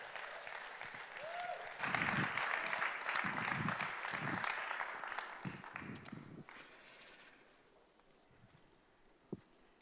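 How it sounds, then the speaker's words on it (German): Applause breaks out from a conference audience welcoming a speaker, loud and sustained for several seconds before fading out, with a few claps trailing at the end. "Einen ganz dicken Applaus"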